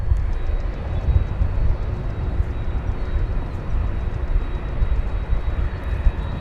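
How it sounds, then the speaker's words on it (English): A UPS Boeing 757 jet at DFW Airport, heard as a steady, loud, low broadband engine roar that holds constant throughout with no voices. "So this is UPS flight 791. It's a 757 going to Louisville."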